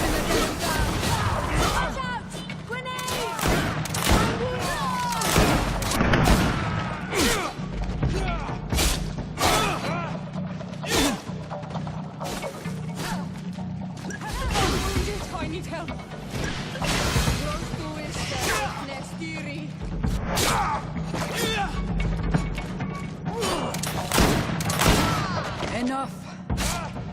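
GreedFall video game combat with grenade blasts and gunfire, repeated heavy thuds and sharp bursts in an irregular rhythm over a low droning background, with voices talking throughout.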